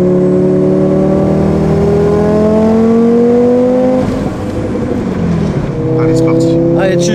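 A 750 hp Audi S2 engine pulls hard through the gears from inside the car, rising tones climbing loud and close, a brief dip and drop in pitch at a shift, then climbing again with turbo whooshes.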